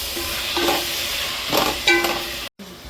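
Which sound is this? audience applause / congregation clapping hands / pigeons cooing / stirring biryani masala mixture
stirring biryani masala mixture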